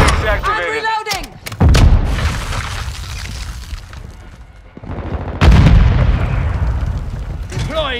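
Explosions from cluster mines in Call of Duty: Modern Warfare II multiplayer, with heavy booming blasts near the start and again around the middle, set against continuous gunfire and battle noise and brief voice callouts.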